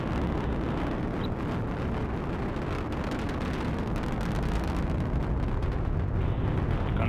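Rocket engines thunder through the Orbital ATK CRS-4 ascent as a steady, loud, broadband roar with dense low rumble that holds unbroken throughout, with no voices.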